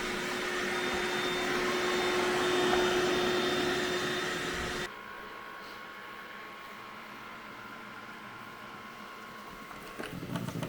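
A Lefant M210 Pro Omni robot vacuum cleans a floor, giving a steady, close motor whir with a high whine that drops abruptly to a quieter hum midway, then a few brief knocks near the end.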